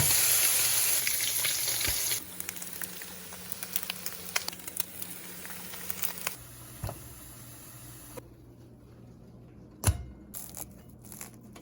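Spam sizzles in a big skillet, a loud steady frying hiss at first that drops off, followed by scattered close clicks and scrapes and a sharp clatter near the end.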